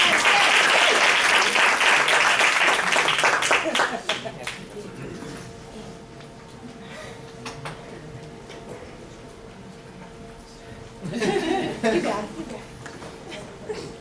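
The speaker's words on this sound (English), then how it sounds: "round of applause for Sherry" An audience at a fundraising academy event bursts into loud applause for a speaker named Sherry for about four seconds, then the room falls quiet with light murmuring before a second, shorter round of clapping.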